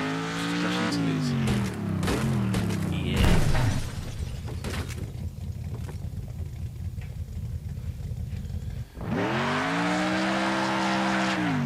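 Car crashes and tire noise from the Next Car Game Sandbox driving game, with a loud revving engine whine, a sharp smashing impact near the four-second mark, rumbling debris, then the engine roaring back up near the end.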